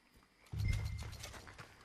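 Horse hooves in Red Dead Redemption 2, clip-clop steps with a heavy low thud as the horse starts moving, then continued hoofbeats at moderate distance under quiet game ambience.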